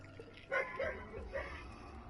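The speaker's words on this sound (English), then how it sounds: "it's my neighbor's dog" A neighbor's dog barks a few short, faint, distant times in quick succession, heard alone with no talking.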